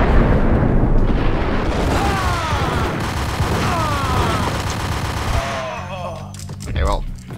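An M79 grenade launcher explodes in the Max Payne video game, with loud rumbling blasts and gunfire-like bursts filling most of the moment, followed by a quieter tail with brief clatter; a voice speaks over parts of it.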